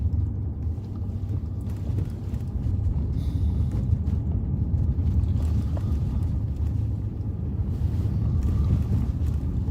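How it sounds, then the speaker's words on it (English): Strong wind roars continuously, buffeting the microphone in heavy gusts with a low rumbling drone. "windy out there."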